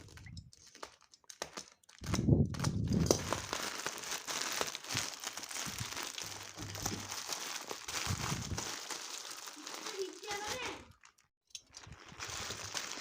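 A plastic package is unwrapped up close: crinkling, crumpling and tearing of the wrapper come in bursts with short quiet gaps, loud at times and softer at others.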